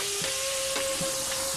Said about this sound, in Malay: Jadi sekarang ni kita nak goreng lah.